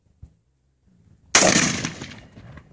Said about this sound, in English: Take a few shots.